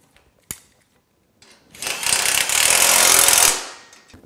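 A power tool drives bolts back in on a Polaris RZR 900XP, opening with a sharp click, then a loud, close, rattling burst of about two seconds that winds down.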